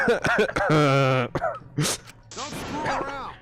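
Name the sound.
character coughing in video game Danganronpa V3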